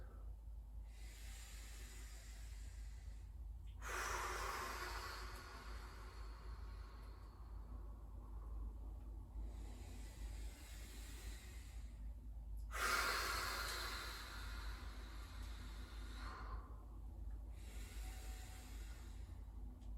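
Slow, deep breathing during a floor stretching exercise, long airy inhales and exhales alternating at an even, unhurried pace, close and soft against a low steady hum, no voices.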